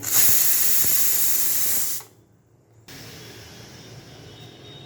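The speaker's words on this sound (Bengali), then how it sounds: "সো আমি এবার কি করব জাস্ট এইটা ধরে সিটিটা রিলিজ করে দেবো" Steam blasts loudly from a pressure cooker whistle being released by hand during cooking of a soybean and paneer curry, a sharp sustained hiss that cuts off abruptly, then resumes more softly.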